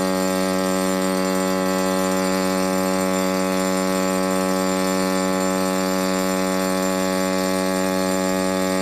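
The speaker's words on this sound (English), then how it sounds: "The general alarm for fire and emergency sounds like this." Ship's general alarm for fire and emergency, a loud unbroken electronic buzzing tone rich in harmonics that holds steady from start to finish, with no voices.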